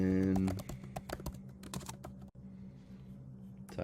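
Quick bursts of keystrokes on a computer keyboard, a cluster of sharp clicks after a brief tonal sound at the start, then a pause and one more tap at the end, close and clear.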